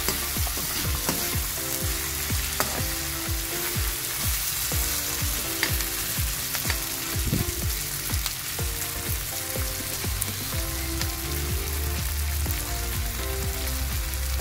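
Corned beef and potatoes frying in a pan, a dense, continuous sizzle with scattered crackles and stirring scrapes, loud and close, no voices.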